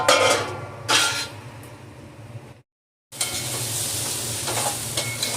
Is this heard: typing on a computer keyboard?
no